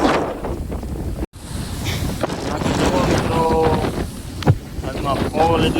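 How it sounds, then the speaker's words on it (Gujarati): Rough, storm-tossed sea driven by strong wind: a steady, loud roar of surging waves with heavy wind buffeting the microphone, including one brief dropout, and occasional sharper splashes throughout. "ફૂલ દરિયો તોફાન થઈ ગયું છે. પવનના હિસાબે મોજો આવે ફૂલે ફૂલ"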